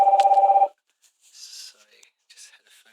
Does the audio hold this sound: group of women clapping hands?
no